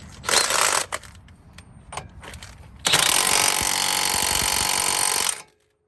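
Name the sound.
tightening axle nut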